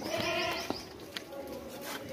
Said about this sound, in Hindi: बहुत ज़बरदस्त बकरी है